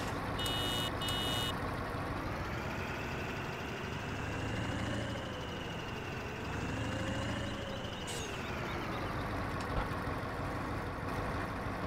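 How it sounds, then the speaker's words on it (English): A deep custom tractor engine sound in Farming Simulator 17 drones steadily, its pitch rising and falling as it revs, with a few short electronic beeps at the start. "There's a guy who does custom sounds for certain tractors"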